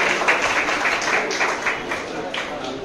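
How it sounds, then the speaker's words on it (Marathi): An audience at a training event applauds YouTuber Jayesh Rajgor with moderate, continuous clapping that holds steady, with some voices underneath. "जोरदार टाळ्या वाजवूया जयेश राजगोर यांच्यासाठी."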